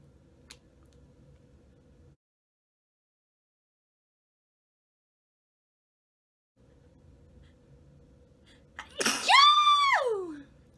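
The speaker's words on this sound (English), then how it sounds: "that was one of the weirdest sneezes I've ever had in my life" A single short, sharp sneeze bursts out loudly near the end, after a quiet stretch with faint background hum and a near-silent gap.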